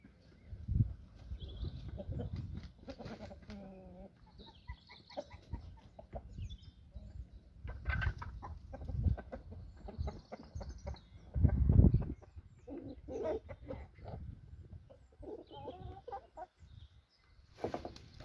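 Brahma hens and a rooster cluck and chatter continuously nearby in a poultry coop, with occasional louder squawks and some rustling, no talking.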